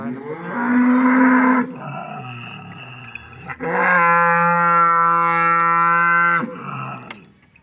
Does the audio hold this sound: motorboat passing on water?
no